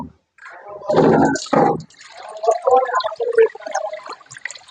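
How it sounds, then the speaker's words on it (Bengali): Water runs and splashes as a wok is washed and filled, loud bursts of rushing water and trickling, with a person talking over and between them. "কড়াইটাকে ভালোভাবে পরিষ্কার করে তারপর পানি নিয়ে ডিমগুলো বসিয়ে দিতে হবে"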